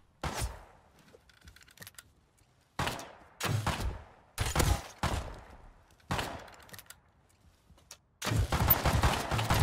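Semi-automatic rifle fire in the survival game Rust cracks out in sharp, separated bursts, several near and loud shots spaced irregularly with short quiet gaps, ending in a denser volley.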